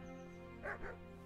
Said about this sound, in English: Is that our dog?